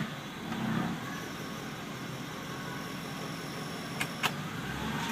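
A 1997 Ford Thunderbird idles in drive with a faint, low, uneven engine drone, broken by a couple of sharp clicks near the end.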